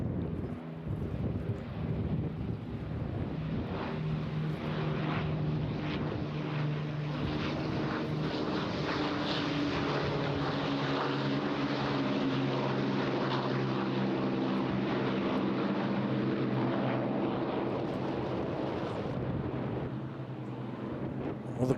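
Battle of Britain Memorial Flight propeller aircraft fly overhead at the Eastbourne International Airshow, a sustained droning engine roar that swells and fades under wind buffeting on the microphone.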